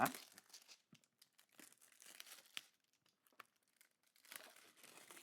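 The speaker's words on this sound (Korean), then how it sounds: "비닐도 안 뜯었어." Plastic shrink wrap being torn off a new multi-cutter power tool box, heard close as irregular crinkling and tearing bursts with brief pauses between pulls.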